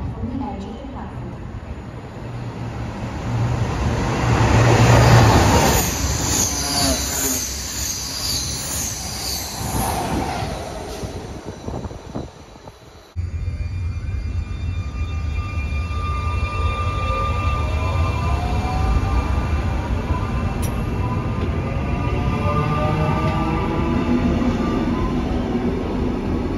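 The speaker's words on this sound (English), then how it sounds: "Track 2, a train is coming through." Train passing through a station platform at Testelt, a loud rumbling pass with wheel squeal and rattling wagons building to a peak, a sudden cut, then a steady continuing roar of cars going by.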